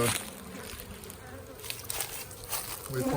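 Survivor honey bees buzzing around a hive box after a cutout, a steady close drone of wings with some rustling and a few louder bumps, continuing evenly throughout.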